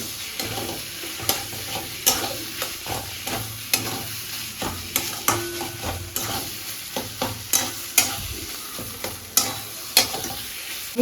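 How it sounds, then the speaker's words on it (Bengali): Potatoes stirred with frying spices in a pan for a fish curry, a spatula scraping in a steady rhythm of sharp strokes over a continuous close sizzle, with no talking. "এবারে মশলার সাথে ওগুলোকে ভালো করে মিশিয়ে নেবো"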